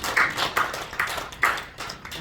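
An audience at a Korean church climate and environment forum applauding the presenters, a moderate spread of clapping with a few sharper individual claps standing out in an uneven rhythm.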